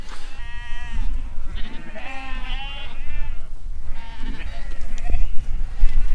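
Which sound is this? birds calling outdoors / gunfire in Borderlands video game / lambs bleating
lambs bleating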